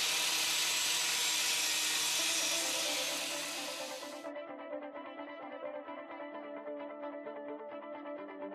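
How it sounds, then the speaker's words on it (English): A rotary grinder with a wire brush wheel strips paint from steel on a backhoe thumb before welding, a loud steady abrasive whir for four seconds, then a quieter rough rhythmic scraping as the brush runs on. "I used a rotary grinder with a wire brush wheel to remove the paint from the areas to be welded"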